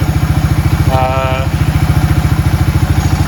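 A 1994 Suzuki Quad Runner ATV engine idles smoothly off choke, close up, with a fast, steady, even thumping pulse that holds throughout. A brief higher tonal squeal rises over it near the middle.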